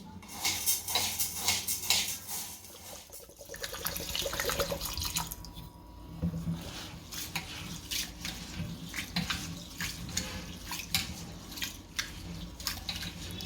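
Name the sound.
rice and dal being washed in water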